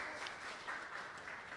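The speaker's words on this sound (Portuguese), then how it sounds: "Por favor, uma salva de palmas aí para os nossos convidados e palestrantes." A seated audience at a business talk gives steady applause for the guests and speakers, a faint, even wash of clapping heard from some distance.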